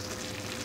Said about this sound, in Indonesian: Ya udah mendidih.